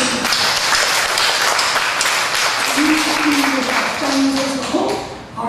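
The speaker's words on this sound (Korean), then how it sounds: "이 20여 필리핀 가정에서 큰 박수 하겠습니다." A church congregation applauds during a Sunday service, a dense, steady wash of clapping that holds for several seconds, with a voice and a brief tone rising over it before it tapers off.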